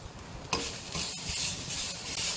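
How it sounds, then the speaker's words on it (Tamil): Red chillies and grated coconut dry-roasting in a pan without oil give a steady soft sizzle with stirring scrapes, moderately close, with no talking. "எண்ணெயெல்லாம் சேர்க்காம அதை ரோஸ்ட் பண்ணணும்."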